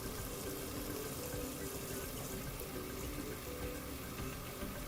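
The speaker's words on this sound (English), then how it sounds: "Let me go ahead and fill the water up, fill the bucket up." Tap water running steadily into a bucket being filled about halfway for a bed bath, a continuous broadband gush with no talking.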